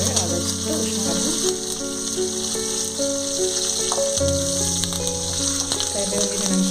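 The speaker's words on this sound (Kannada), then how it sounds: "ಕರಿಬೇವು ಹಾಕ್ತಾ ಇದ್ದೀನಿ" Curry leaves frying in hot oil for an avalakki mixture, a steady broadband sizzle and crackle throughout, with sustained musical tones running underneath.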